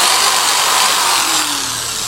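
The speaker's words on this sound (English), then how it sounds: "And everybody's heard this one, the drill." Power drill running in a duck call workshop, a loud continuous whine with a slight pitch drift and no one speaking.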